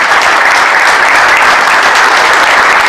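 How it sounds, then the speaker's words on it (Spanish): Loud, steady applause from an audience at a formal event on the 1917 Mexican Constitution, continuous and dense throughout with no voices over it. "Un fuerte aplauso, por favor."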